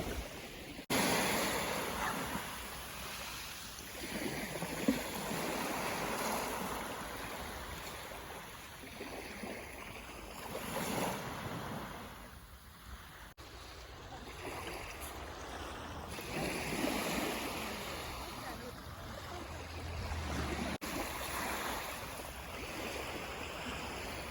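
Waves wash in and out on the shore in slow, rolling surges, with a soft breeze and no voices.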